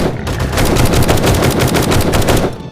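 Rapid bursts of gunfire from a co-op survival video game, dense repeated shots in a steady rattling run lasting nearly three seconds, loud and close with no talking.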